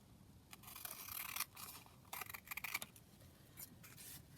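Scissors snip and trim paper to make a double book page pocket, a few quiet close-up cutting bursts with soft scraping between them.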